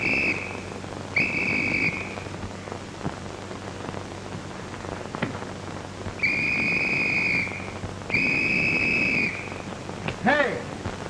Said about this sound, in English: was you blowing a whistle?